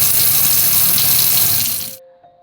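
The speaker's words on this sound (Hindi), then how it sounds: "पानी का नल अपने आप खुलता है।" A water tap running in a washroom, a steady close splash of faucet flow that stops abruptly near the end, leaving a faint hum.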